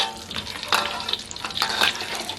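A crab omelette fries in hot oil over high heat in a wok, Jay Fai style. It gives a close, continuous crackling sizzle with bursts of spatter and a stirring scrape.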